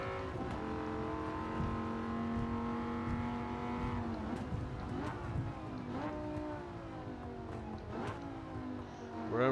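A 2006 Dodge Viper SRT10 Coupe in Gran Turismo 7 on the Tokyo Expressway, its engine droning at high revs with repeated shifts and pitch swoops as it accelerates and brakes, steady and close throughout.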